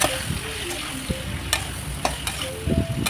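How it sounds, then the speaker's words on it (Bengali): Spices with salt, turmeric, cumin and red chilli powder are stirred into a frying fish curry, a loud near sizzle under repeated spoon scrapes and knocks against the pan. "এগুলো দিয়ে আবারও খুব ভালো করে নেড়ে চেড়ে নিলাম"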